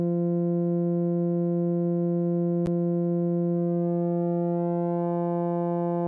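A sustained synth tone from Absynth 5 holds a steady, buzzy pitch rich in overtones, with a single sharp click partway through and the tone slightly changing character near the end.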